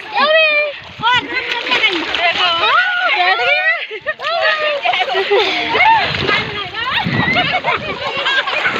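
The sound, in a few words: child splashing in shallow Ganga river water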